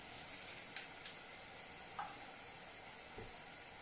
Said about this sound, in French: mes 2 gousses d'ail sont en train de tranquillement cuire dans l'huile d'olive